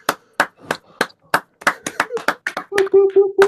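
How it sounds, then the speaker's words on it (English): Participants in an online production workshop unmute and clap, scattered distinct claps from a few people, uneven and overlapping, with voices and a sustained tone entering near the end. "Should we try a round of applause?"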